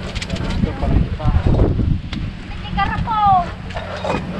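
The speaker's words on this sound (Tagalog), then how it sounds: "Nakakalakas ng hangin" Strong wind buffets the microphone in rural farm country, a rough, gusting low roar. Voices talk over it and birds chirp briefly.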